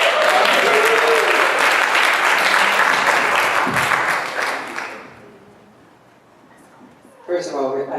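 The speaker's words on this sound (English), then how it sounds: "Give her a round of applause." An audience claps at a vocal master class, dense sustained applause for about five seconds that then fades away, followed by a voice speaking near the end.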